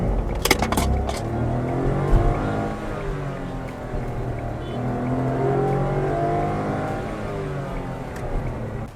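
A Nissan Magnite EZ Shift with an AMT gearbox pulls away from a standstill, its engine note rising steadily under a loud, continuous drone of road and cabin noise.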